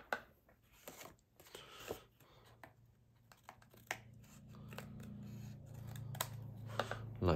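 Scissors snipping around stamped and coloured paper images, a scattered run of soft close cuts and paper rustles, followed by a low hum that builds toward the end.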